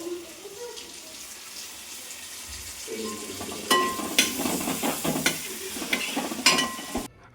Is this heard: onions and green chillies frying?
yes